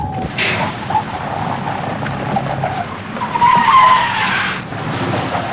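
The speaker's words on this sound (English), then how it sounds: "The locked wheels are moved from side to side, but the vehicle keeps sliding straight ahead until it comes to a standstill." A truck with locked wheels skids on a wet road, a sustained scraping slide with tyre squeal rising near the end, heard alone at close range and moderately loud.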